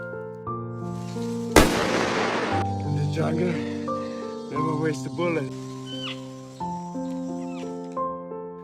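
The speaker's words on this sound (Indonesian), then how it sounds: "Di sana terdengar bunyi tembakan menggaung." A single sharp gunshot in a forest cracks and rings out with a long echoing tail, set against sustained music and a meowing cat.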